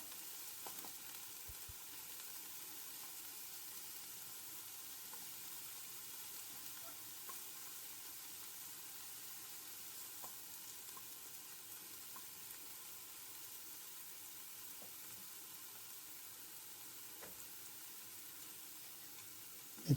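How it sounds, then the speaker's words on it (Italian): Wild fennel sautés in a pan for Sicilian pasta alle vongole. A soft, even sizzle runs steadily throughout with faint occasional stirring ticks and no talking. "Aggiungiamo il finocchietto, lasciamo rosolare un po'."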